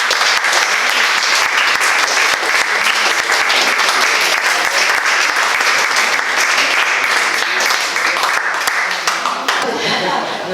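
A hall audience applauds at a ceremony awarding certificates to craft centres, with dense, loud, sustained clapping that fades near the end as a voice begins over it.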